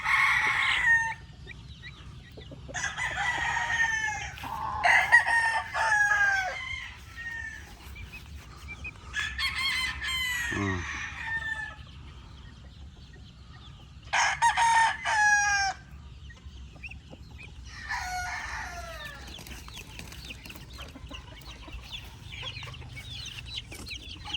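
A gamecock brood stag crows several times in separate bursts, loud and close, with clucking and other fowl sounds between the crows on a farm.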